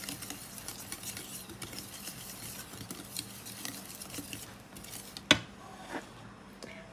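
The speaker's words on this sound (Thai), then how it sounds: "คนของแห้งให้เข้ากันนะคะจากนั้นค่ะค่อยๆใส่ไข่ไก ่คนต่อนะคะให้เขาเข้ากัน" Waffle batter of dry ingredients and egg being stirred in a bowl, a soft steady scraping and patter throughout with one sharp clink near the end.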